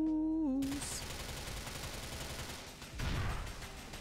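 GTA 4 gunfire crackles as a muffled, sustained burst through most of the stretch, swelling louder near the end after a short musical tone at the start.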